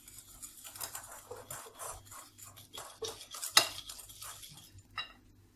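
Starch and flour are stirred together in a bowl, giving soft, repeated scraping and clinking of a utensil against the dish, with one sharper knock partway through.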